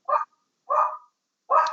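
A dog barks three times in sharp, separate yips with short silent gaps between them, close and clear, with no talking.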